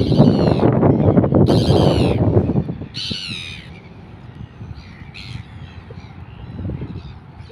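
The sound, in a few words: bird calling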